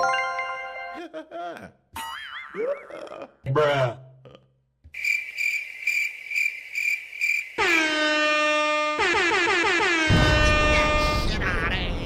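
A rapid string of assorted novelty sound effects: boings, a spoken exclamation, chirping, a blaring air horn and a noisy burst, each cutting abruptly to the next.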